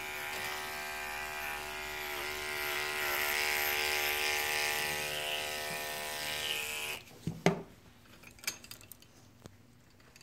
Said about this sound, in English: If you're good with a clipper, you can pretty well blend it with a clipper.